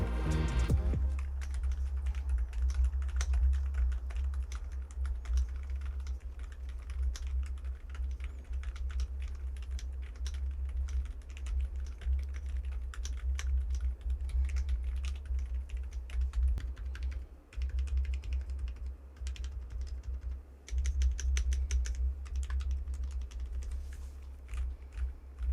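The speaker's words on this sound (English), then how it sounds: "this is a silent keyboard" Steady, soft typing on a Yunzii AL71 silent keyboard, with dense muted keystrokes and a low desk resonance continuing for the whole stretch, no voices.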